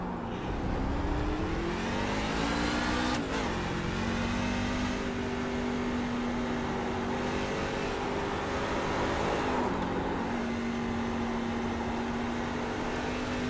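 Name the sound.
NASCAR Class C race car engine at COTA, iRacing video game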